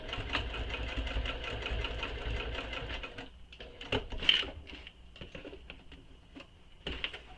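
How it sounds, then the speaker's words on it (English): Sewing machine back stitching on a fabric bag, a fast mechanical whirr of the motor and needle running in short bursts, pausing and restarting, close and moderately quiet. "I'm coming back to where I started, so I'm going to back stitch again."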